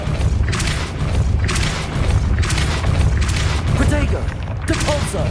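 A Depulso force spell from Hogwarts Legacy hits again and again, booming impacts and crashing thuds piling onto loud continuous game sound, with voices heard in the mix.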